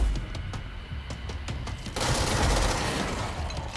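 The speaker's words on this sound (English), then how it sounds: "that's a grenade" A grenade blast in the video game Control, arriving as a sudden broad roar midway after a stretch of rapid gunfire clicks, then lingering as a heavy rumble.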